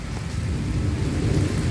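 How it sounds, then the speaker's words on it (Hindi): Heavy rain pours down in a steady, dense roar, with deep rumbles of thunder rolling underneath throughout; no one speaks. "बारिश में नहला रहा है"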